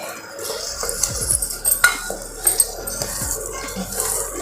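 Fried paneer being mixed into a methi malai curry in a pan, a close, steady run of stirring scrapes and clinks of a spoon against the metal over a soft sizzle.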